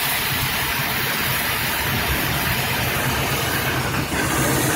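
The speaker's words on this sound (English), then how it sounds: "Car runs quiet for a car with headers on it." A 1988 Chevrolet Caprice Classic with a 305 V8, headers and an aftermarket exhaust idles steadily nearby, giving a constant low rumble beneath broadband hiss, with no pauses or voices.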